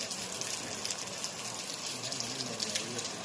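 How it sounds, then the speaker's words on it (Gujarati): Floodwater rushing through a village after heavy rain, a continuous broadband roar of flowing water with no pauses, heard close and fairly loud. "બહુ પાણી આવી રહ્યું છે."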